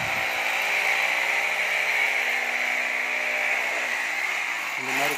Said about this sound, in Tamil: இப்போ ட்ரில் பண்ணிட்டுருக்காங்க.